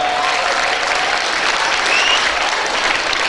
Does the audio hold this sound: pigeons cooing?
no